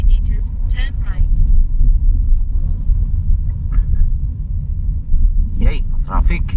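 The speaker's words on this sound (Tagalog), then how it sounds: "Yay, traffic." Heavy road traffic on EDSA from inside a car, a low, continuous engine and road rumble. Brief voices come and go over it.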